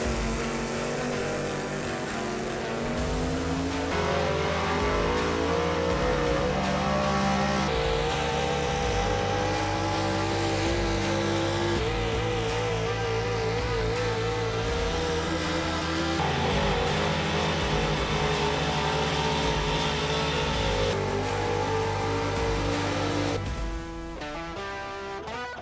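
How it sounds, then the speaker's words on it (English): 4-wheel drive pulling trucks from the Outlaw Street Gas and big block high output classes roar at a truck and tractor pull, a loud sustained engine drone with shifting pitch and layered revving, continuous for the whole stretch and easing off near the end. "we have the Outlaw Street Gas 4-wheel drive trucks along with the big block high output 4-wheel drive trucks"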